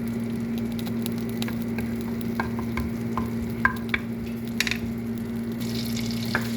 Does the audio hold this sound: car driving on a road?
no